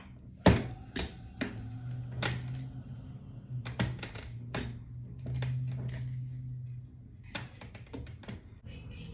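Cut copper pieces dropped inside a copper pyramid, landing as a scattered series of sharp metallic clinks and taps, one loud hit early and the rest lighter and irregular, over a low steady hum.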